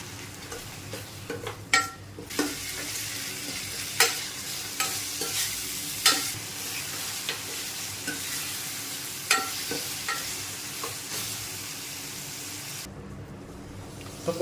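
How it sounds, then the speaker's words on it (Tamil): Spice powders, coriander and chilli, being stirred and fried in a pan for dried fish thokku, with a steady sizzle and repeated scraping strokes of a spoon at an uneven rhythm, close and alone. "இது எல்லாத்தையுமே போட்டு நல்லா மிக்ஸ் பண்ணிக்கலாம்."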